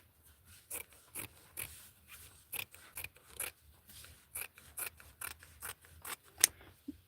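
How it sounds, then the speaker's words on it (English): Scissors cut along stretchy fabric for a McCall's 7841 sewing pattern, a series of about fifteen close, crisp snips in an uneven rhythm against a quiet room. "So you get the scissors right here"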